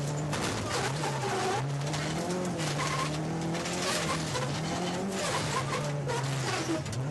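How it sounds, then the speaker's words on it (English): Rally car with a collapsed left front suspension, the tire digging into the bodywork, on a Canadian Rally Championship stage; a continuous loud engine drone with a wavering pitch and scraping, grinding noise throughout, with no talk. "The left front suspension's collapsed and the tires digging into the bodywork."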